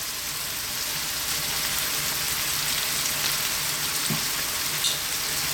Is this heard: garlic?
yes